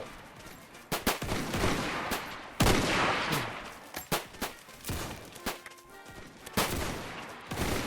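Gunfire in the Roblox video game, rapid bursts of sharp shots in irregular clusters across the scene, some close and loud, others quicker and lighter, with no talk over them.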